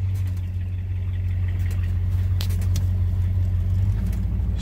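An old Ford car engine idles steadily up close, with a deep, continuous rumble and the ticking puff of an exhaust leak, loud and alone without any talk.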